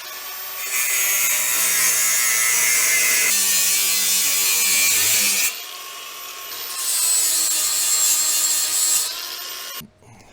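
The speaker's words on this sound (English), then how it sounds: "you got to cut out these metal tabs in your battery tray" A power tool cuts metal tabs out of a rusty factory battery tray on an EZGO golf cart, giving a harsh grinding rasp in loud bursts with brief pauses between them and no talk.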